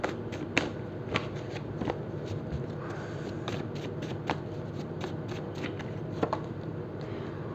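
Tarot cards being shuffled by hand, a steady run of soft papery riffles and flicks close by with occasional sharper snaps, continuing without pause and with no talking.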